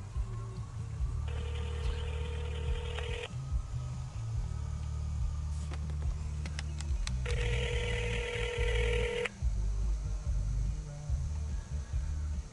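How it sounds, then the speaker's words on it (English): A telephone rings through a call placed to a seller about a rental house, two long electronic ring bursts separated by a pause, with clicks and a hum of background noise between them. "I'm just gonna call this person and see what the deal is"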